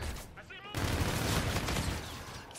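Rapid automatic gunfire rattles through a Call of Duty: Infinite Warfare multiplayer match, a loud sustained burst of overlapping shots arriving after a short quieter lead-in, with a voice heard alongside.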